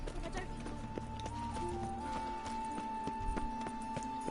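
A horse trots with rhythmic clip-clop hooves in the video game The Witcher 3, quiet and steady under game music tones, while someone talks over it.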